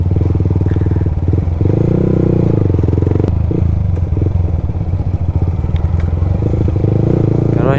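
Motorcycle riding along a coastal road on the Bondoc Peninsula between San Andres and San Francisco, Quezon, its loud engine droning steadily and close throughout with some rattling clatter.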